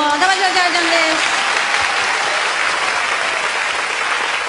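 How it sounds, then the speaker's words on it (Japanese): A live concert audience applauds a singer who has flown in from Okinawa. A dense, loud wash of clapping fills the room from start to finish, with voices audible briefly at the beginning. "もう一度大きな拍手を。"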